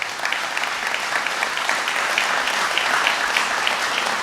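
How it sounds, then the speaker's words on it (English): A large audience at a State of the City address breaks into steady, dense applause, many hands clapping together in a continuous loud wash that holds evenly throughout without any voice over it. "let's give them all a big round of applause"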